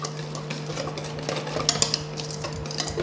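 A spoon mixes garam masala into a spiced mutton marinade in a bowl, soft wet stirring with light clinks of metal against the dish throughout, close and fairly quiet over a steady low hum.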